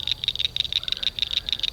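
Rapid, high-pitched pulsing chorus of frogs at a bass pond, a steady trilling rhythm of many quick calls close and fairly loud, with faint low outdoor rumble beneath.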